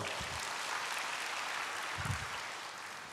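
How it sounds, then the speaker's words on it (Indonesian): A church congregation claps together in a steady, dense wash of applause, fairly soft and a bit distant, with no speech. "Berikan tepuk tangan bagi Tuhan."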